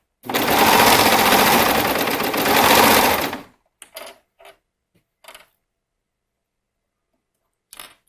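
Sewing machine stitching elastic into the V neckline of a gala gown, a loud close burst of rapid needle chatter lasting about three seconds, then a few brief faint clicks and handling taps in near silence.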